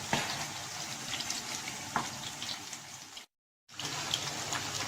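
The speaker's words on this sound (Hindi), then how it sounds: "ये मछली जो है ये फ्राई हो रही है" Fish fillets frying in hot oil in a home kitchen give a steady, close crackling sizzle with a few sharper pops, then a short dropout before the sizzle returns.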